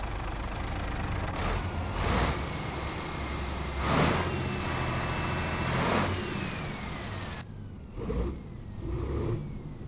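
A truck engine idles in a trucking simulator game, giving a steady diesel rumble with injector clatter. The sound swells at intervals, and no one speaks.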